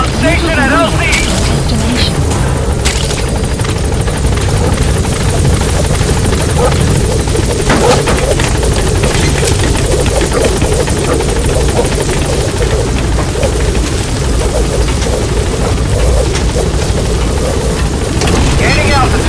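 Pequod helicopter from Metal Gear Solid V arriving at the landing zone in a game scene, its rotor roar loud and constant throughout, with radio voices and what sounds like rain mixed in.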